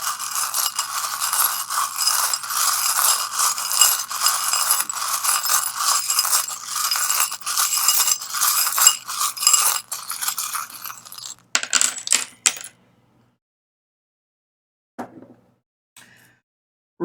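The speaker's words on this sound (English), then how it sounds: "I'm going to shuffle and cast some charms." Tarot charms rattle and clink continuously as they are shuffled, a busy metallic jingle that stops abruptly, followed by a few scattered light clicks as they are cast.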